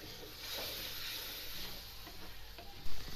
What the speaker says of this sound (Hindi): मसाले पक जाएं अच्छी तरह।